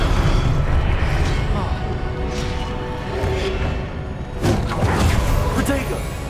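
Spell blasts such as Incendio and Confringo in the video game Hogwarts Legacy, sounding as a steady roar of booming, whooshing magical bursts with a louder burst near the end, under game voices.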